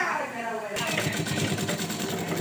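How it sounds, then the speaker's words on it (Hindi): A sewing machine runs a double line of stitching on a small baby girl's dress, its needle chattering in a fast steady rhythm that starts abruptly after a brief moment of quieter room sound, close and continuous. "अभी मैं डब सिलाई लगा रही हूँ।"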